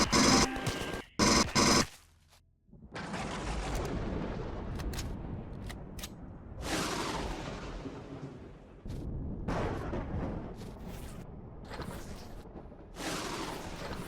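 Explosions boom in Empyrion Galactic Survival, a loud sharp burst first, then several heavy rumbling blasts following one another with roaring decay between them.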